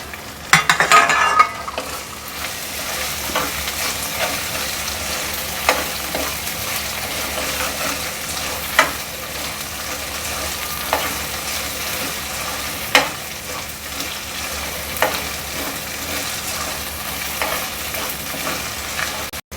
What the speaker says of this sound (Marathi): आता एक टोमॅटो बारीक कापून तो पण त्याच्यामध्ये घालून घेऊया